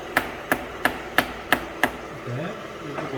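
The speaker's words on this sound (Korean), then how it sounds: "망치로 좀 때려줍니다." Six sharp, evenly spaced hammer taps ring out on a workpiece clamped on a manual milling machine, close and loud, followed by quieter shop rustling.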